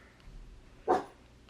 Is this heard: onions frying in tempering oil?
no